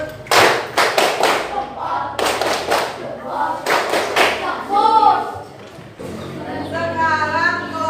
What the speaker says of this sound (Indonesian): berarti beri tepuk salut.